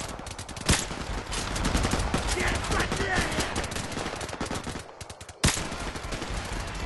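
Rapid automatic gunfire from the video game Modern Warfare Remastered, loud and dense bursts with a few sharp single cracks standing out.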